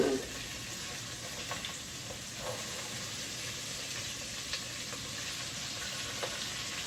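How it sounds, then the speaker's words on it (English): Beef short ribs searing in a pot give off a steady, close sizzle with a constant hiss and occasional small pops and crackles, heard alone without talk. "you wanna hear that sizzling when you get it on the pot"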